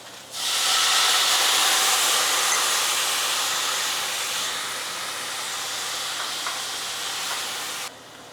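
Cognac hits a hot pan while deglazing for Steak Diane with Wagyu tenderloin, erupting into a loud, bright sizzle that gradually settles to a steadier hiss and stops sharply near the end.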